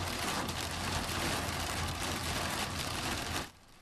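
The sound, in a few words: hail pelting a car windshield while driving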